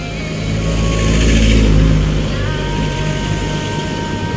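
A motorcycle engine runs close by, a steady droning hum that swells briefly as it revs then settles back to an even idle.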